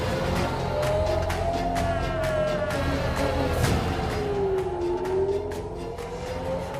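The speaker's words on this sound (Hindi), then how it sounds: "डिफेंस सिस्टम अलर्ट जारी करता है और सायरन गूंजने लगता है" A civil defense air-raid siren in Israel wails in a slow rising and falling tone, sounding steadily and fairly loud over a constant background rumble.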